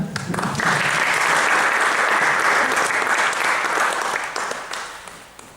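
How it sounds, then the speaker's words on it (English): Audience applause at a literary festival event, a dense steady wash of many hands clapping that swells quickly, holds strong for several seconds, then tapers off toward the end. "Can I have a round of applause for that?"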